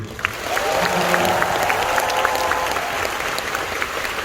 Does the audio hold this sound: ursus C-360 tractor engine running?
no